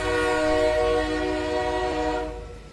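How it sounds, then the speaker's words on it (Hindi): A train horn blares loud and sustained as the train pulls into a station, a single long tonal blast that fades slightly at the end. "अचानक ट्रेन के हॉर्न की जोर आवाज से मेरी आंख खुल गई"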